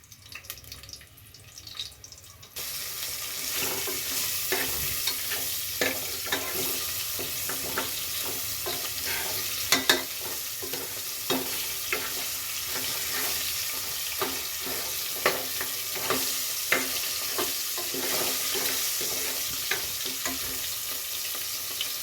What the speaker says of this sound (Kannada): ಇದಕ್ಕೆ ಸ್ವಲ್ಪ ಈರುಳ್ಳಿ, ಒಂದು ಅರ್ಧ, ಅದು ಫ್ರೈ ಆಗಿ.